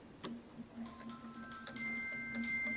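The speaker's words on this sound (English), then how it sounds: "We have a glockenspiel." A theatre organ's glockenspiel, small hammers hitting tuned metal bars, plays delicate, high notes one after another, each chime ringing on briefly, soft and clear with no talking.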